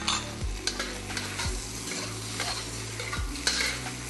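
Wok stir-fry of chili pork intestine with spring onion, giving a steady close sizzle and frying hiss broken by three heavy scraping tosses of the spatula, no talking.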